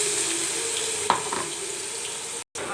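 Onion frying in a pan while cooking green gram thokku gives a steady, close sizzle throughout, with a couple of faint stirring scrapes and a brief dropout near the end.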